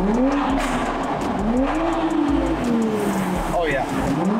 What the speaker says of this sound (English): I'm gonna give it a rev since we're under the bridge.